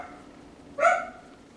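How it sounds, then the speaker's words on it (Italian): Small female dogs bark at imagined enemies on an outdoor terrace, a single short burst of loud yapping at a middle distance that rises over a quiet room and then fades. "nel frattempo sentite le mie cagnoline che abbaiano contro"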